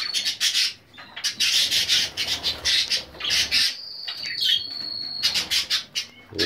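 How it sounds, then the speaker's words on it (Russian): Cockatiel parrots, several of them flying free, squawk loudly in rapid rasping bursts close by, with brief pauses and a thin whistle-like call between. "Эти вроде называются карелы, если я не ошибаюсь, такие попугаи."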